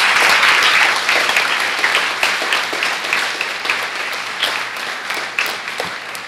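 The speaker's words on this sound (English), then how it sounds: "Girls, give a round of applause to all our specially invited guests." Girls and guests at a girls' high school speech day and awards ceremony give a round of applause, loud and close at first, then slowly thinning as individual claps stand out toward the end.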